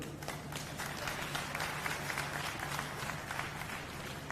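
A crowd at an election rally in Jhajjar, Haryana, applauds in a faint, distant, continuous wash of clapping, with a low steady hum underneath and no speech.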